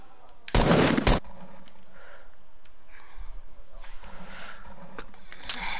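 Rapid burst of automatic gunfire in a PS4 video game, a loud dense volley lasting about half a second near the start, followed by faint scattered in-game noises and distant shots.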